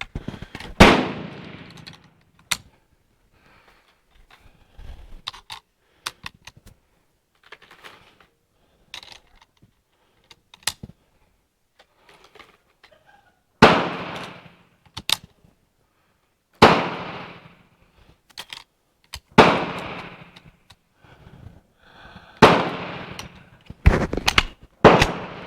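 SKS M59 Yugoslavian rifle fired outdoors, a series of loud, sharp single shots spaced several seconds apart, some in quicker pairs, with faint handling noises between.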